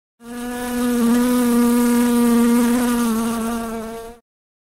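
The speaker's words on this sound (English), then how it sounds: "Wasp" A wasp buzzes steadily and up close for about four seconds, a strong droning hum with many even overtones that holds its pitch almost unchanged before cutting off.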